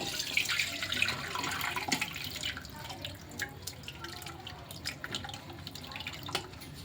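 Warm milk strained through a filter while making homemade cheese gives a steady, close trickle with scattered drips and liquid splashes, and no talking.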